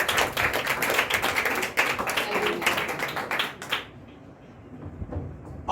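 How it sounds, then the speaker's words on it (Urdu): At a church service, the congregation claps loudly and rapidly to welcome the Lord, the crisp overlapping claps running strongly for several seconds before stopping abruptly, leaving a quiet room. "سب کو ہاتھ لہرائیے اور خداوند کو زوردار تالیوں سے ویلکم کیجیے"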